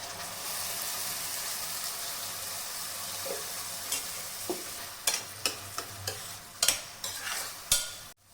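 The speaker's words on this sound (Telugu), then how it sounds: "అల్లం వెల్లుల్లి పేస్ట్ వేగిపోయిన తర్వాత ఇందులోకి టమాటా ప్యూరీని వేసుకుందాం." Tomato puree goes into fried ginger-garlic paste in a pan, giving a constant soft sizzle, and stirring adds a series of sharp spoon knocks and scrapes toward the end.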